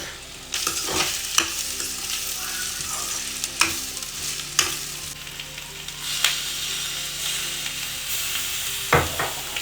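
Egg fries in a pan with a steady sizzle, punctuated by repeated sharp scrapes and knocks of a spatula stirring and mixing.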